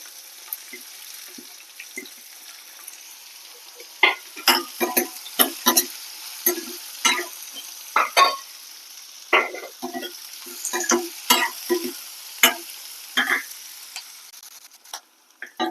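Onions frying in hot oil with hing in a pan, a soft steady sizzle broken by frequent sharp scraping clicks of a spoon stirring, close and fairly quiet, with no talking.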